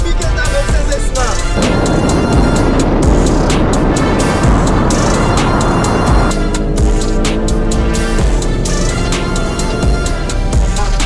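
A BMW X5M with 575 hp and a Mercedes GLC AMG with 476 hp launch in an SUV drag race, their engines a loud, sustained roar with rising engine tones toward the end.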